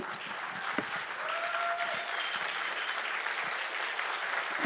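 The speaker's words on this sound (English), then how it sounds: "We want to give you a round of applause." Steady, fairly distant applause from an audience honoring graduating business students at a college showcase, dense and even throughout, with a faint brief whistle in the middle.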